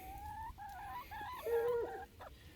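Several chickens cluck and murmur close by in a series of short, overlapping calls with steady rustling underneath; no one speaks.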